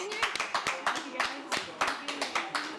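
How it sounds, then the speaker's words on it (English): Scattered applause from a small audience after a live performance at a cinema festival, a handful of distinct claps in uneven bursts, moderately close and fairly quiet. "Another round of applause, by the way"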